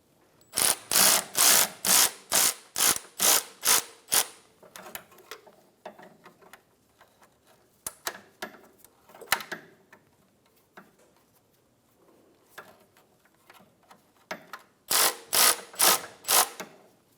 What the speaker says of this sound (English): Tighten the belt tensioner.